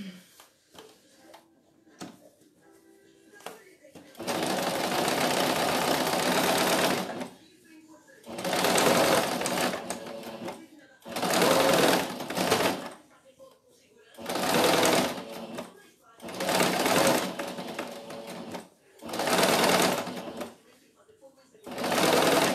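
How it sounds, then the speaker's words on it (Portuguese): Sewing machine stitching a fold to make a casing for elastic, running in several bursts of a few seconds each separated by short quiet gaps, close and fairly loud. "E a gente vai costurar pra poder passar o elástico"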